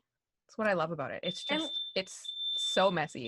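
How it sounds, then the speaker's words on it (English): A home smoke alarm beeps, a sustained high electronic tone sounding twice under close conversational speech that carries on over it. "that's my fire alarm."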